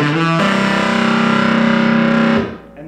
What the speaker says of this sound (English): we've just finished that intro lick right here